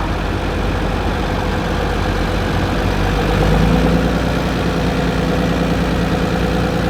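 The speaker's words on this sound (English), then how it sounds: "here we have an Allis Chalmers WD-45, owned by William Bookable family out of Glenrock" Antique Allis Chalmers WD-45 tractor engine idling at an outdoor steam show, a loud steady low rumble with constant throbbing vibration, briefly rising a little in pitch midway, with no talk.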